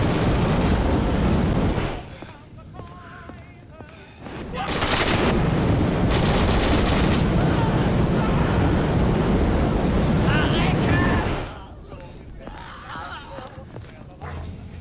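A landing craft churns forward in a Day of Infamy D-Day beach assault amid heavy, continuous gunfire and booming blasts. The noise is loud and dense, eases briefly, then surges again, with a voice talking over it.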